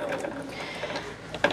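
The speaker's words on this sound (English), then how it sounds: "So I'm just stitching this closed." A sewing machine stitches a pocket edge closed on a small quilting project, a soft quick mechanical whirr with a sharper clack near the end, close and fairly quiet.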